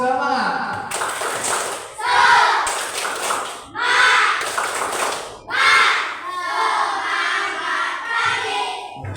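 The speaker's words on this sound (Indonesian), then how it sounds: "Tepuk semangat." Fourth-grade schoolchildren in a classroom performing a rhythmic spirit clap, loud bursts of synchronized hand claps in repeating patterns, with children's voices chanting along between the clapping phrases.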